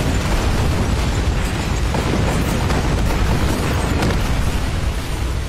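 A blast from a Chinese TV crime drama, a loud, dense boom that fills the whole stretch with a continuous rumbling roar and crackling debris, staying heavy and unbroken throughout.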